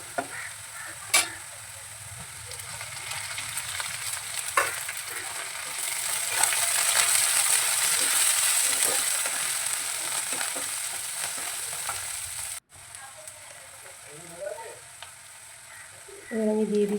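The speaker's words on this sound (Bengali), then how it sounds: "পেঁয়াজটা একটু ভালো করে ভাজা ভাজা হোক" Chopped onion and green chili sizzle steadily in a pan, with a spatula scraping and stirring through them in repeated strokes; the frying stays close and fairly loud throughout, breaking off briefly once near the end.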